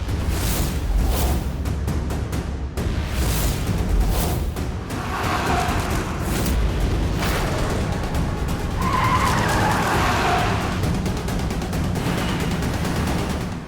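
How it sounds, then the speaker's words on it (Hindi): A car races along in pursuit with loud, repeated tire skids and engine roar, squeals rising and falling over about fourteen seconds, close and continuous with no speech. "ये गाड़ी मेरे पीछे क्यों आ रही?"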